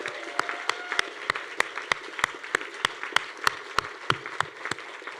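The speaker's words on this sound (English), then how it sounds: "Let's have a huge round of applause for all these amazing students" Audience at a college senior awards banquet applauds: a steady wash of many hands clapping with sharp, regularly spaced individual claps standing out, loud and continuous throughout.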